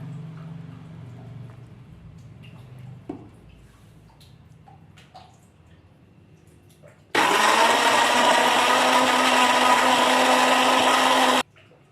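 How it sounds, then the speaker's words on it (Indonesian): Blender grinding a spice paste with fennel seed and oil for gulai cubadak, a loud steady whir starting partway through and running about four seconds before stopping, with quieter kitchen handling sounds before it. "ini bumbu-bumbunya sudah kita blender"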